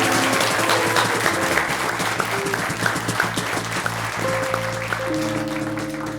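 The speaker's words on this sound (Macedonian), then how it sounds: "Аплауз за Пеперминт!" A studio audience bursts into sustained, dense applause for Peppermint on a television talk show, a full crowd clapping loudly and evenly throughout, with a low musical bed running underneath.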